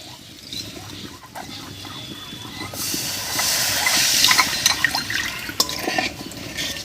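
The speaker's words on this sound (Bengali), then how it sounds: "কড়াইয়ের মধ্যে দেব বানিয়ে রাখা কমলার মিশ্রণটা।" Orange jelly mixture pours into a kadai: a steady liquid hiss and splash that swells midway and stays loud to the end, with a few small drips and clinks and no talking.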